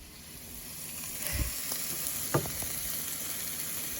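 Trader Joe's shrimp stir fry sizzling in a pan, a faint steady hiss broken by two sharper clatters of utensil against the pan, with no talking.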